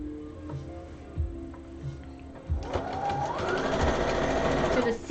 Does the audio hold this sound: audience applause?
no